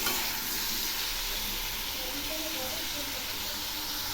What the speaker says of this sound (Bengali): এই টমেটো আর আনারসগুলো খুব ভালো করে ভেজে নেব